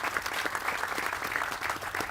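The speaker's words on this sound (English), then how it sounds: "Let's give them a round of applause," Audience applause at a celebration for a new waterfowl conservation center in Monticello, steady dense clapping from a sizable crowd that holds evenly throughout, with no voices over it.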